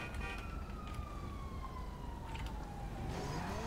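A police siren wails in GTA V Online, a sweeping falling tone that drones steadily at moderate distance over continuous background noise.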